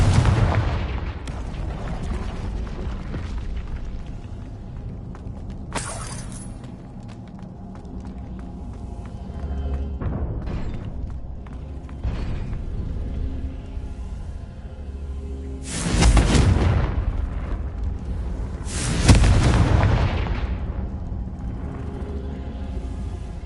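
Confringo fire-blast spells in a wizarding video game played on PS4, booming explosive bursts at intervals over a continuous rumbling battle ambience, with several louder blasts toward the end.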